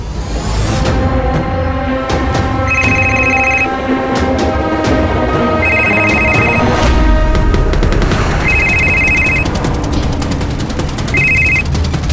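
A phone rings after a call is placed in a police drama scene. Repeated electronic ringing bursts sound over loud, dense background music and effects throughout.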